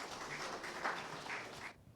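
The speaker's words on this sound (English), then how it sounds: "big round of applause for our eminent panel" An audience at a governance summit panel session applauds for the panel, a dense burst of clapping that fills the room and then stops abruptly, with no voices over it.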